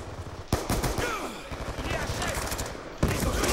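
In the video game Black Ops II, rapid automatic gunfire rattles on continuously at moderate loudness, with sharp shot accents near the start and again toward the end.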